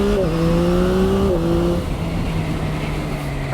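Yamaha MT-09 motorcycle accelerating hard from 0 to 100 in drive mode 1, its engine note climbing steadily, with one gear change partway through, loud and close.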